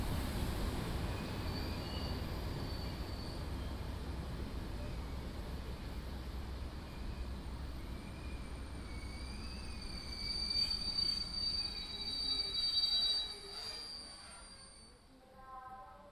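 A TT-scale model passenger train on a main-line layout rolls steadily along the track, a continuous low rumble with faint high squeals from the wheels and a brief swell toward the end.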